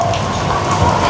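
Steady heavy rain pouring down on a street market in Divisoria during a storm, a dense continuous hiss that is loud and close with no talk.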